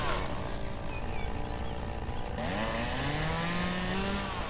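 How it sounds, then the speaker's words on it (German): Chainsaw cutting away bushes along a path in the game Lumberjack's Dynasty, a steady loud engine drone that shifts pitch partway through as the blade bites, running continuously with no talk. "Wenn ich eh schon die Kettensäge in der Hand habe."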